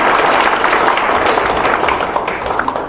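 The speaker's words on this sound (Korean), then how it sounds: "사지훈 교수님께 한 번 더 올해와 같은 박수를 부탁드리겠습니다" An audience at an inauguration ceremony applauding loudly and close, a thick burst of many hands that gradually eases toward the end.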